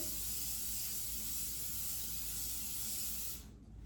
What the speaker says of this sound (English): So let me go over the sink and spray these